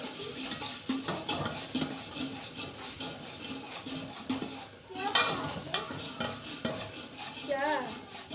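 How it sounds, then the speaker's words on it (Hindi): Garlic and ginger paste with green garlic sizzles in a pan for curry, a spoon scraping and stirring through it in repeated strokes with occasional clinks, close and steady, no talk. "लहसुन और अदरक का पेस्ट डालेंगे, साथ में हरा थूम भी डालेंगे"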